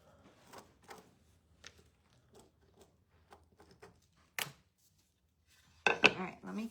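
Scissors snipping fabric for a wooden cross craft, a series of faint scattered cuts and handling rustles, then a louder sharper clatter near the end, quiet and close.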